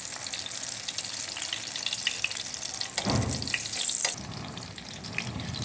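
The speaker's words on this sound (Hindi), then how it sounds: "इस तरह हमने सारे कबाब फ्राई करने हैं" Eggplant and vegetable kebabs, a meatless chapli-style kebab, frying over low heat in a pan with a steady, moderate sizzle and a louder burst of crackling for about a second midway. No one speaks.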